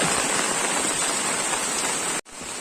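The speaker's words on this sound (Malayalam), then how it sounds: "നിങ്ങൾ കേൾക്കുന്നുണ്ടെന്ന് അറിയാം നല്ല മഴയല്ലേ" Heavy rain pouring steadily on a house roof during a downpour, a dense, loud hiss that cuts out briefly near the end before resuming, with no voices.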